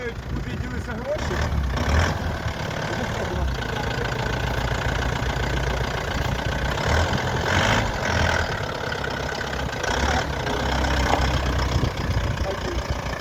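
A car engine runs steadily at low revs, a continuous mid-pitched rumble that rises and falls slightly as the car creeps back and forth, with muffled voices in the background.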